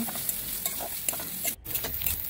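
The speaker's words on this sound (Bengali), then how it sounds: "পেঁয়াজ কুচি ভালো করে লাল লাল করে ভেজে নিয়েছি" Chopped onions frying in a pan with cumin and curry leaves give a steady soft sizzle, broken by repeated scraping stirs and one brief pause.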